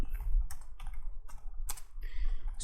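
Irregular bursts of key clicks from a computer keyboard, close and fairly crisp, coming in short uneven clusters with brief pauses between them and no voices.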